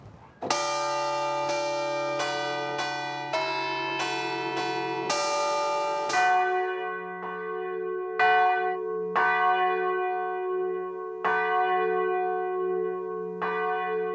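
Church bells swing and ring out loud and close, set off by remote control, with overlapping rich tolls striking in an irregular rhythm and long ringing decay.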